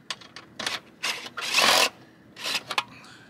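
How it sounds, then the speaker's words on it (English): A nut driver bit removes the three fasteners from an attic vent turbine. It makes several short, close rasping and scraping bursts, and the loudest stretch falls near the middle. "You just have three fasteners. Use a nut driver bit."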